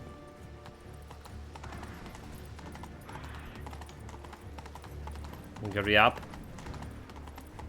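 Horse galloping in The Witcher 3, a continuous rush of hoofbeats with a sharp neigh near the end, under a player's brief speech.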